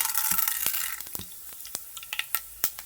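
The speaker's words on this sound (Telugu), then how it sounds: "ఇప్పుడు ఆయిల్ అనేది వేడైపోయింది కదా, పోపు దినుసులు అయితే వేసేసుకోవాలి" Tempering spices, dried red chillies and curry leaves, sizzling in a tablespoon of hot oil for mango-coconut chutney: an initial hissing sizzle that fades into scattered crackles and sharp pops near the pan, no talk.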